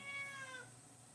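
A single drawn-out meow from a hungry house cat waiting for food in a kitchen, close and clear, fading over about half a second.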